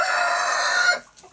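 A young rooster on a farm where Muscovy ducks are kept crows loudly and close by in one sustained call, which cuts off sharply toward the end and leaves quiet background noise.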